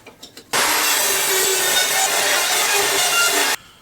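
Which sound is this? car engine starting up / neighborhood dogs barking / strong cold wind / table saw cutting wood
table saw cutting wood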